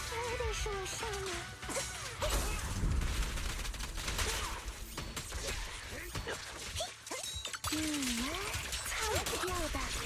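Gunfire in a video game, rapid bursts and single shots mixed with whooshes and impacts over busy game music and effects, with voices talking throughout.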